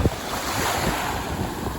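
Ocean surf rolling onto a Florida beach on a fairly calm day, a steady broadband wash of waves with wind buffeting the microphone throughout, no voices.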